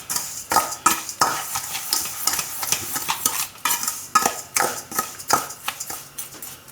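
A spoon stirs a mixed-vegetable pickle spice blend with salt in a pan, making close, rhythmic scraping and clinking strokes about twice a second.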